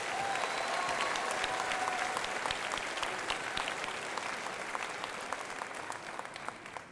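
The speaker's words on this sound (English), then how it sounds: "Let's give them all a round of applause." A crowd at a graduation commencement ceremony applauds steadily, a dense patter of many hands clapping throughout, fading slightly near the end, with no talking.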